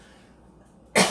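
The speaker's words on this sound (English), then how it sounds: "I have to cough now because of the brownie." A single sharp cough, loud and close, bursting out abruptly after a near-silent stretch.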